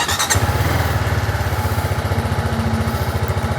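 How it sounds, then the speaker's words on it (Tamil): A TVS Apache RR310 motorcycle engine runs while the bike is ridden, giving a close, loud, rapid pulsing thrum that holds steady throughout with no talking. "இப்போ நான் உங்களுக்கு பைக்கை ஓட்டிட்டு ரிவ்யூ சொல்கிறேன்"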